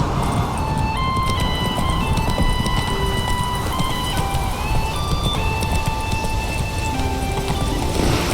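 Hooves of the horse Roach clip-clopping in a steady galloping rhythm in the video game The Witcher 3, layered over a continuous game music bed with sustained tones.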